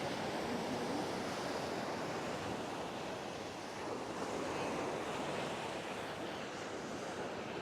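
Ocean waves roll onto the sand at Sunny Isles Beach, a dense steady roar of surf with wind buffeting the microphone, close and constant with no voices.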